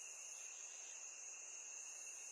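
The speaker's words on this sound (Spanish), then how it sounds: "El único sonido que se escuchaba era el chirriar de los grillos." Steady high-pitched insect chirring, continuous and fairly faint, like crickets on a quiet night with no other sounds.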